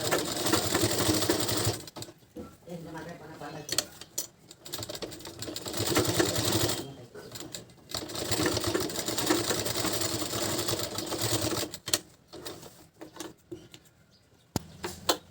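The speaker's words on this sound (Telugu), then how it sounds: "ఇలా డబల్ కుట్టు వేసుకున్నామంటే లేస్ నీట్గా వస్తుంది" A sewing machine runs in long steady bursts while double-stitching lace, its fast mechanical whirr close and continuous, broken by short pauses between runs, with faint background bird cooing.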